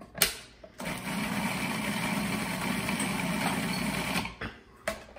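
Kitchen blender whirring steadily for about three and a half seconds as it purées chana masala ingredients, starting abruptly and cutting off with a brief clatter at the end.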